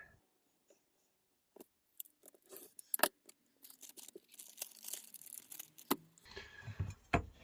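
Scissors or a cutter snipping through a roll of yellow 0.5 sniper sling slingshot band, with a few sharp isolated cuts, then denser crinkling and snipping toward the end, close and fairly quiet.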